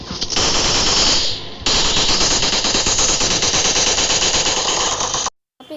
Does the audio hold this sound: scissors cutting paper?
no